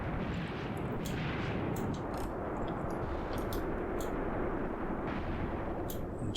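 Dense, continuous rumble of artillery fire in the Graviteam Tactics war game, with overlapping booms and scattered sharp reports layered into a loud, unbroken barrage throughout.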